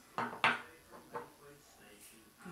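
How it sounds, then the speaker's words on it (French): Bread dough ingredients being mixed in a bowl give a few close, light clinks and scrapes of utensil against the bowl, the first two sharpest, then softer taps fading out in a quiet kitchen. "Je mélange un petit peu. Juste pour incorporer le tout ensemble."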